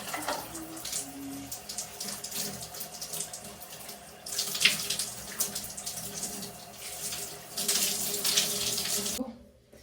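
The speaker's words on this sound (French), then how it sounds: "on va prendre la douche." Shower water runs for almost ten seconds with a steady hiss that swells in places as the spray shifts. It cuts off abruptly at the end, and faint background sounds sit beneath it.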